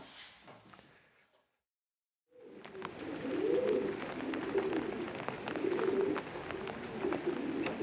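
Racing pigeons coo steadily inside a loft during a rainy spell on Vancouver Island, a soft, repeated low warbling that starts after a brief silence and carries on, fairly close, with no talking.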